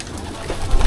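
Racing pigeons coo softly while feeding in a loft, low murmuring calls that swell slightly toward the end over a steady background.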